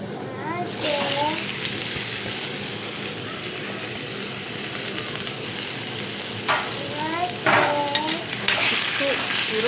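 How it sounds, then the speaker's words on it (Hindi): Salted potatoes sizzle steadily in a pan while frying to golden for an aloo anda dish, a continuous close hiss broken by occasional stirring scrapes, with someone talking over it. "गोल्डन होने तक आलू हम तलेंगे।"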